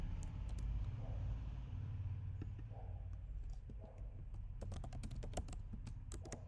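Quick clusters of computer keyboard keystrokes as code is typed, light and close, over a steady low rumble of background hum.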